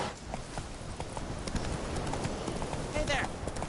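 A horse gallops in The Witcher 3, its hooves striking in a fast, steady clip-clop rhythm close by and continuing throughout, with a voice also present.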